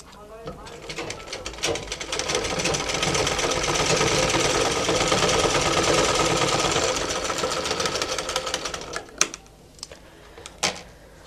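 A sewing machine stitches a half collar on a dress, its close mechanical whir rising and holding steady for several seconds before stopping, followed by a few sharp clicks and handling knocks.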